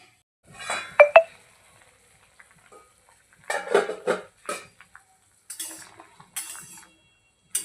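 A metal lid set on a cooking pot of drumstick masala curry: a couple of sharp clinks near the start, followed by scattered clattering and scraping of kitchenware in a quiet room.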